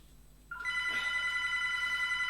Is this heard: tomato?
no